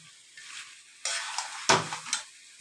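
Chicken being sautéed in a pan with ginger, green chilli and garlic paste and Kashmiri chilli powder: a low sizzle broken by sharp bursts of spoon-stirring and scraping, loudest at mid-clip, with no talking.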